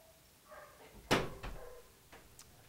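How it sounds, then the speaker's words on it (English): Door opening into a surgery room at an animal shelter, a soft latch click followed by a sharp thump and a couple of lighter knocks, close and fairly quiet against a low room hum. "The door is opening to the surgery room."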